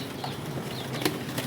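A soft flutter of wings beating as pigeons take off, fairly quiet and brief, with no voices.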